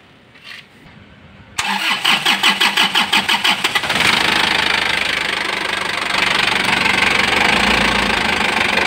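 An Isuzu 4JB1TC turbo diesel engine cranks with a rapid rhythmic chugging, then catches and runs loud and rough at a steady uneven idle, close by with no talking.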